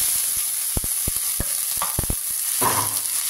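Winged beans, tomato and small bird's eye chilies stirred in a frying pan, a spatula knocking and scraping in a few sharp taps over a steady sizzle, alone and close.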